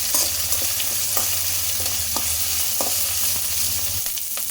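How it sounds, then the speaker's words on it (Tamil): Garlic, green chili and curry leaves fry in hot oil, giving a steady close sizzle with scattered sharp pops and crackles and occasional stirring scrapes, no voices. "இந்த பூண்டு வந்து எண்ணெயில நல்லா வதங்கட்டும்."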